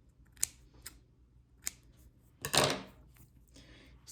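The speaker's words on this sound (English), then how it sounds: "So now that I've cut that thread" Scissors snip thread for a beaded bracelet in several quiet, close cuts spread over a few seconds, with one longer, louder snip in the middle.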